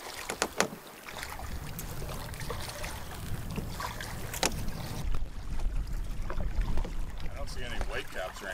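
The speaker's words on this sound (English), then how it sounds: "Still paddling, trying to find a site." Canoe paddle strokes dip and splash in a river with steady trickling and light wind noise, close to the microphone, no voices.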